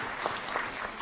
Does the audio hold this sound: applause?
yes